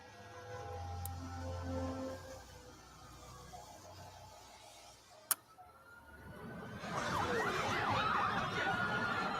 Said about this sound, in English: Follow the sound of sirens.